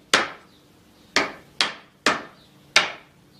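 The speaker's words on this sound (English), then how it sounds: "you hammer it in" Five sharp hammer blows strike a spare piece of wood, each a crisp close knock with a quick decay, spaced unevenly with short pauses between.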